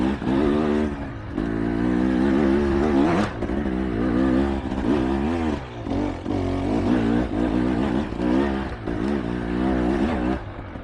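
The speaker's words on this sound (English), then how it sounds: "Just give me a revving." Racing vehicle engine revved repeatedly nearby, loud rising and falling bursts of throttle with rattly idle between blips, heard at a race event with no talk over it.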